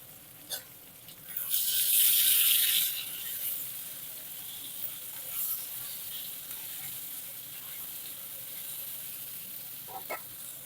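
Cucumber (dosakaya) pieces drop into hot tempering oil for masala dosakaya curry, setting off a loud, bright sizzle burst lasting about a second and a half. It then settles into a faint crackle with a few light rattles of the pan.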